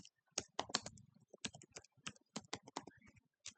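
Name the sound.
typing code on computer keyboard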